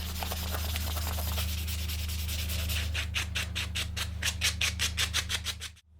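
Sandpaper rubs over a hand-carved wooden spoon in quick close strokes, first soft and even, then in a louder steady back-and-forth rhythm before stopping.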